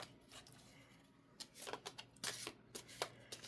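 Arthurian Tarot cards riffle and shuffle in several quick bursts, close and soft, after a quiet start.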